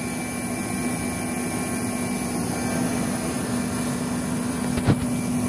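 A homemade torpedo heater burning waste motor oil fed through a siphon nozzle roars steadily close by with a constant hum and one brief knock near the end.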